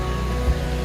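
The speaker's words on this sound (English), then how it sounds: "it's pissing down with rain" Heavy rain pouring down on an alpine bush route during a tramp, a steady, loud wash of noise with no talk.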